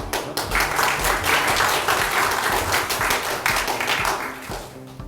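Loud, dense audience applause at a regional economic revitalization forum, welcoming the county governor to the stage; a steady burst of many hands clapping close by for about five seconds.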